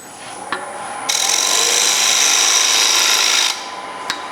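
Gouge cutting a spinning wooden platter rim on a lathe: a bright, steady scraping hiss that starts abruptly, runs about two and a half seconds and stops, with faint clicks before and after.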